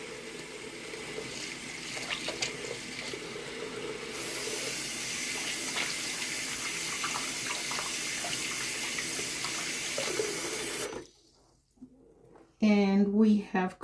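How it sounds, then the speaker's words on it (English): A tap runs steadily at a sink while hands are washed, a continuous close splashing hiss that stops abruptly near the end, after which a voice talks briefly. "I'm going to wash my hands again."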